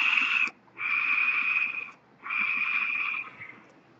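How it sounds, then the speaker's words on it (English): Air drawn through an AGA-T7 rebuildable atomizer with a large deck and two airflow holes gives a loud, airy whistling hiss, heard close up in three long pulls separated by short pauses. "So you are going to have a pretty loud vape."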